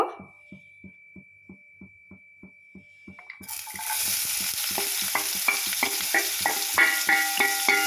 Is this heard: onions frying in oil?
yes